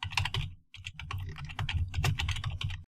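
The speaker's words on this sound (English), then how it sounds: "So let's type alert hello" Fingers type on a computer keyboard in quick, uneven bursts of clicky keystrokes, close and fairly quiet, with one short pause before the typing resumes and then stops abruptly.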